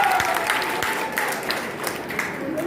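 Audience applause at a college freshers' welcome party, a steady wash of clapping from a crowd that holds throughout at a fairly loud, even level with a few sharper claps poking through.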